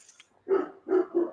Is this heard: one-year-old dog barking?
yes